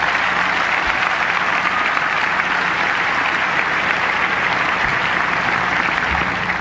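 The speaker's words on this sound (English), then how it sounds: "I'd like you to give a quick round of applause to Jim Malamy, Doug Saputo, and Andy Broderi" Sustained audience applause fills a hall during the 1999 International Tennis Hall of Fame induction, a dense, steady clapping that holds evenly loud throughout with no voices over it.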